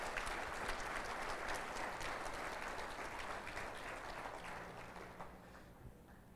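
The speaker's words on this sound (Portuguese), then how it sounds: "Vamos aplaudir os que estão na meia milha. Pode aplaudir." A church congregation applauding during a sermon, steady broad clapping from a crowd heard from a distance, sustained evenly across the whole stretch and fading slightly at the end.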